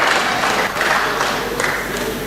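Audience at a book launch in Mutare breaking into a round of applause, a loud, dense and continuous wash of clapping from a crowd close by.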